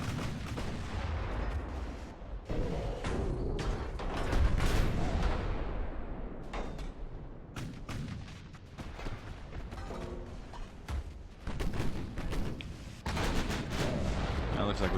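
Naval secondary guns firing at armored cruisers and battleships in Ultimate Admiral: Dreadnoughts, a steady run of sharp gunshot cracks and booming salvos, with talking mixed in.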